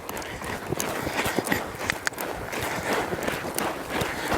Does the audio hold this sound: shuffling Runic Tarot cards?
no